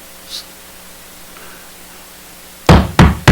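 Three loud, close knocks on a door come in quick succession after a quiet stretch, acted out during a sermon retelling of knocking at a king's door.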